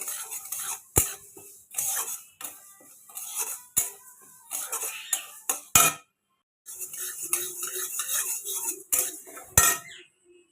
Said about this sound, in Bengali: দলিয়া করার জন্য মুগ ডাল ভাজছি